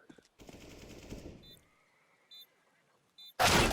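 AK rifle fire in a Counter-Strike: Global Offensive match: a rapid automatic burst of shots lasting about a second, then quiet with a few short beeps and a loud closing blast.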